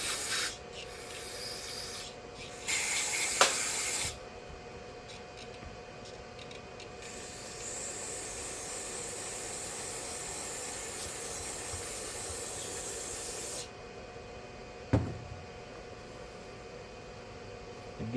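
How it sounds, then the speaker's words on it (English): A garden hose sprays water to rinse out a Craftsman lawn tractor trampled by goats, giving a steady hissing rush with short louder bursts near the start and a brief knock near the end. "We'll kind of hose this out one last time"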